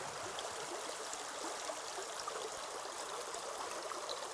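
Water draining off a gold-panning sluice mat, a steady, close trickling rush that runs unbroken throughout with no voices.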